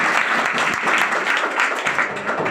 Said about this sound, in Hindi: हाँ चलिए ताली बजा दीजिए।